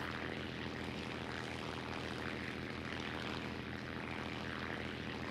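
A dive bomber's propeller engine in War Thunder, a continuous loud, even drone with a dense buzzing hum that holds steady throughout, with no talk.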